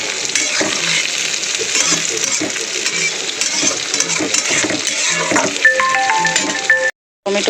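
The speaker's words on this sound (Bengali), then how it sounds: "টমেটো পেঁয়াজটা ভালো করে ভাজা হয়ে গেছে।" Onion and chopped tomato fry in a wok on the stove, making a loud, steady close sizzle with stirring scrapes and a few metallic clinks near the end, then a brief cut to silence.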